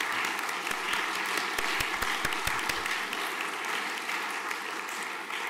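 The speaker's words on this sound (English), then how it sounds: "Round of applause." A chapel congregation at a morning service applauds. A thick wash of many hands clapping continues evenly for over five seconds at moderate volume, with a few sharper claps standing out.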